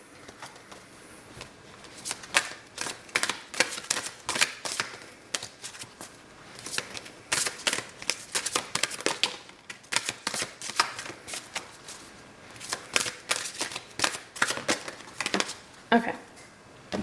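Advice cards shuffled by hand for a card reading: bursts of crisp riffling and flicking repeated in quick runs, close up, with short pauses between shuffles.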